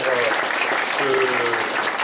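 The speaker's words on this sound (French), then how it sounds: "Donc je pense là aussi qu'on peut d'ores et déjà largement les applaudir" Sustained applause from an audience at the inauguration of a plant market at the Mulhouse zoo, dense steady clapping filling the whole stretch with a faint voice or murmur underneath.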